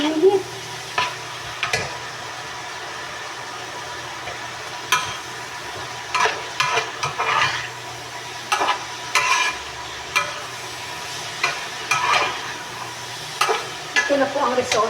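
Meat simmering in plenty of broth in a pot, with steady stirring, scraping and bubbling sounds that come and go in bursts close by, no talking.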